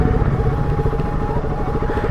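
Motorcycle engines run steadily up close as bikes are parked beside the ancient Gudimallam temple, a continuous mid-pitched rumble with clattering texture throughout.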